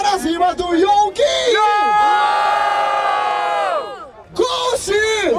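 A loud crowd at a rap battle in Barueri, São Paulo cheers and yells in a sustained roar, with an MC shouting over it before and after.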